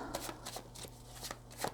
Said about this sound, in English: I'm going to focus and concentrate while I shuffle